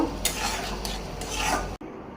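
Prawns being stirred and fried in a pan with a utensil, a steady close scraping and sizzling that runs loud for almost two seconds before cutting off sharply.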